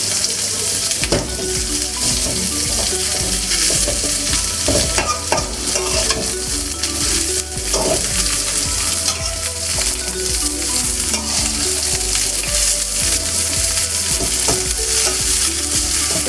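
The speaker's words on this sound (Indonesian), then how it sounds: "Kita tumis dulu sebentar sampai agak layu. Kita gedein apinya." Spinach stir-frying in a pan over high heat gives a loud, steady sizzle with scraping and clattering as it is stirred, continuing without pause.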